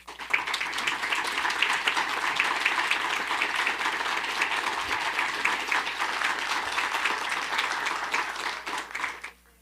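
Attendees at a city council meeting give prolonged applause, a thick, steady roar of many clapping hands filling the room before tapering off at the end.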